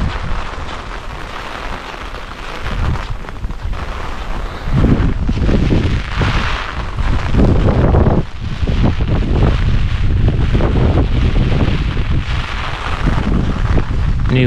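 Strong storm wind gusts through a Japanese village, roaring and buffeting the microphone in loud, continuous waves that surge heavier in the second half, with no voices.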